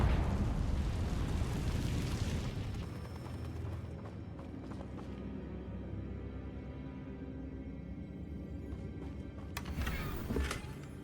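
A Confringo blasting spell in Hogwarts Legacy erupts in a long, rumbling explosion with crackling debris and creaking, loud at first and then settling into a sustained roar with a sharp burst near the end.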